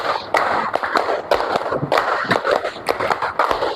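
A class of pupils performing a counted clapping pattern in a school lesson, repeated bursts of loud group claps in clustered rhythmic groups, dense and close, over roughly four seconds.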